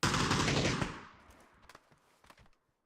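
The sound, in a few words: gunfire in a video game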